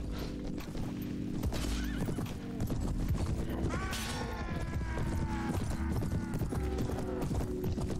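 Horses neigh and whinny repeatedly over galloping hoofbeats and a busy soundscape in the video game Prophesy of Pendor, with a loud shrill whinny rising in the middle.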